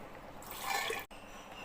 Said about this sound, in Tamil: கழுவி 1 கிளாஸ் தண்ணி ஊற்றிக்கிறேன்.